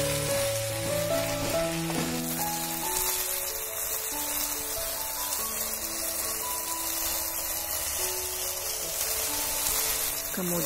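Fried rice-vermicelli mixture sizzles steadily in a pan after vinegar is added, a continuous loud frying hiss, with soft background music.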